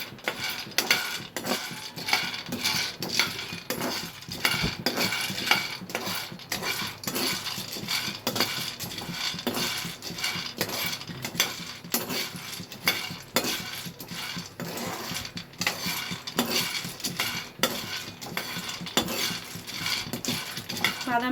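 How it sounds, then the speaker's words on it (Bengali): Peanuts being dry-roasted and stirred on a hot tawa for a dessert, giving a steady stream of dense rattling, clinking and scraping that stays fairly loud and continuous, with no talking. "বাদামটা একটু ভেজে নিতে হবে।"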